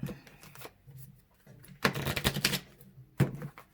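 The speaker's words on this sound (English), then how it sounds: "Here we get a better shuffle." A matte tarot deck is shuffled in quick riffling bursts, crisp papery flutters separated by short quiet gaps, close and fairly soft.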